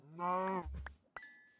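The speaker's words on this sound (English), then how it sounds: "I thought it was the Ice King, but that was a cow" A cow in the Minecraft video game lets out one loud, close moo that lasts about half a second. A short low thump follows, then a brief tonal chime.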